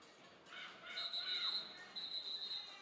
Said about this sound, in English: And the whistle blows, so that'll do it for the jam clock.